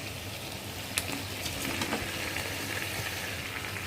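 Chicken pieces sizzle steadily in hot spiced oil with potatoes for a biryani, a continuous close frying hiss with a few sharper crackles and spatters, no voices.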